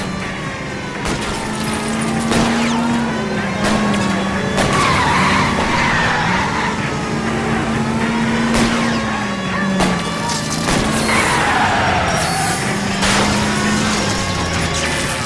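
Car tires skid and squeal repeatedly during a chase in the video game L.A. Noire, with a steady engine roar and wavering screeches through the whole stretch, with no voices.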